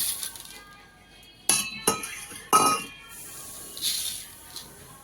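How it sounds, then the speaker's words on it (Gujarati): Small candy balls poured into a homemade sesame-seed mukhvas mouth freshener give a few sharp, bright clinks and rattles in quick succession, close and fairly quiet against a hushed background. "આમાં જો ગોળીઓ નાખી દઉં હવે."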